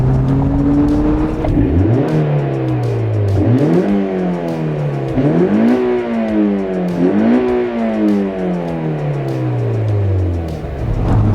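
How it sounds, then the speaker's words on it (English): A naturally aspirated Mazda Miata NC four-cylinder engine revs repeatedly with a rich, throaty intake roar, rising and falling in about four climbing pulls, loud and close with no talking. "you hear that really rich induction noise that naturally aspirated 4-cylinders can produce"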